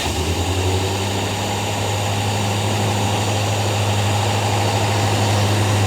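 Rover P6 V8 garage find with a blocked fuel supply running at a steady idle, a close, continuous low rumble with an even throb and no change in revs.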